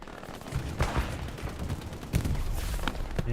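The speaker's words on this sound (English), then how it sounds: "now the machine guns are setting up" Dense machine gun fire and scattered shots from a WWII battle in the game Hell Let Loose, loud, steady and overlapping, with sharper bursts standing out near the start and later on.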